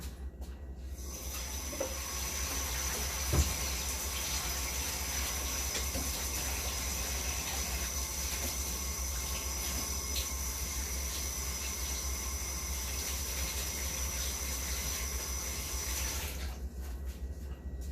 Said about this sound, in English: Wash my gloves.